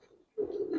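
A single short, soft coo from a giribaz pigeon in a loft in Old Dhaka, rising out of near silence and held close by.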